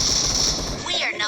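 Rapid automatic gunfire from the PUBG/BGMI mobile game sounds as a dense burst of shots that cuts off abruptly within about a second.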